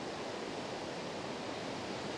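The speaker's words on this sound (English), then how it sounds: "those waves are starting to get a little bit more rough now" Sea waves at Portrush, growing rougher, make a continuous broadband wash of surf, steady and fairly soft, with no distinct breaks.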